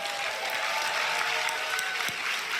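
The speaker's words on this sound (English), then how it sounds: "But can we just give them a big round of applause?" An audience claps at a corporate company event in honor of operational staff at an aloe-growing business. The applause is steady and sustained throughout, from a moderately sized crowd in a room.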